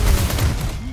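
Rapid gunfire in the Resident Evil 4 remake video game, a loud close burst of shots crackling in quick succession for about a second.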